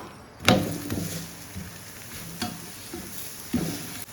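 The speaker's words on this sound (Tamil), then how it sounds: "இப்போ அடுப்பில் போட்டாச்சு. நெய் ஊற்றிக்கலாம்." Cauliflower paratha cooking in ghee on a stovetop pan, a quiet sizzle broken by three distinct knocks and scrapes spaced a second or two apart, close by with no talk.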